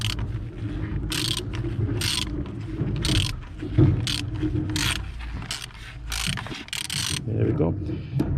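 A ratchet undoes the oil filter cap on a Peugeot 407 2.0 HDI during a service, giving repeated bursts of sharp clicking in a steady rhythm, close up, with brief pauses between strokes.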